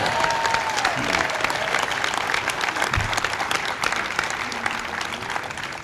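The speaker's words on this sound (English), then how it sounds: "these are the ones that deserve the applause" Crowd in the White House Rose Garden applauding the Los Angeles Lakers at a championship reception, sustained loud clapping from many hands with a faint voice briefly underneath.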